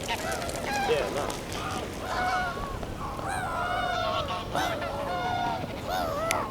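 Geese honk in a London Royal Park in autumn, with repeated nasal calls overlapping against a steady outdoor background, moderately close and mixed with other bird sounds.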